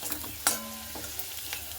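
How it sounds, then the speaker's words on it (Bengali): Potatoes sizzle in well-heated oil in a pan, a bright continuous crackle broken by a few sharp clatters of stirring, close and fairly loud with no talk. "তেলটা আমার খুব ভালো গরম করে নিয়েছি। এরপরে দিয়ে দিচ্ছি সেই আলু।"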